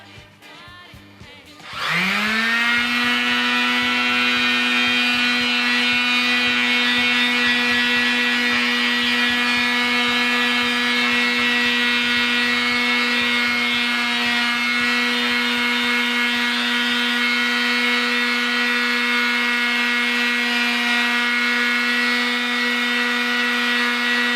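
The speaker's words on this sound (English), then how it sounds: "So I'll move on to the 80 grit mouse sander now." An 80 grit mouse sander shaping EVA foam for a Space Marine suit spins up with a sharp start and then runs as a loud, steady, close electric whine with a grinding, rubbing edge.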